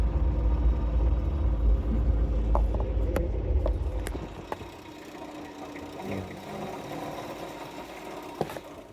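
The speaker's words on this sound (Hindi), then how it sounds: "ये जो आवाज़ आ रही है ना चेन वाली साइड से, ये टाइमिंग चेन की साइड से ये आवाज़ बहुत ज़्यादा आ रही है।" Suzuki Mehran car engine with a noisy timing chain while driving: a steady rattling mechanical whir over low engine rumble, which drops away after a few seconds and leaves a quieter hum with occasional clicks.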